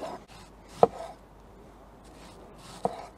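Onions are sliced into fairly thick rings for a Dutch oven Gangsterfleisch with Kassler. Two separate knife cuts land about two seconds apart on a quiet board, with no one speaking.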